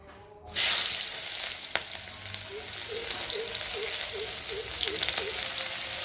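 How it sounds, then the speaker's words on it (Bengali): Onion dropped into leftover oil from frying fish bursts into a loud, close sizzle that holds steady and bubbly for several seconds, with a faint repeated tone in the background and no voices. "ওই মাছের তেলের মধ্যেই আমি এখন পেঁয়াজটাকে ছেড়ে দেব"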